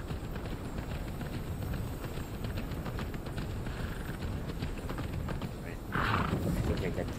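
Horse hooves from the video game Immortals Fenyx Rising clatter in a steady, rapid galloping rhythm, moderately loud and continuous, with a brief louder burst near the end.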